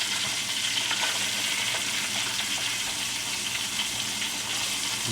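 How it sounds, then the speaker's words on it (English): Chicken strips fry in hot oil, a loud, dense, continuous crackling sizzle that holds steady from start to finish without pause, close by and with no talking. "Let that fry up and sizzle up."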